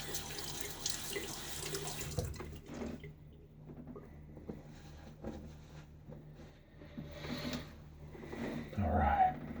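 Tap water runs steadily into a sink while someone wet-shaves, broad and continuous, with faint talk and small clatters over it and a louder splash near the end.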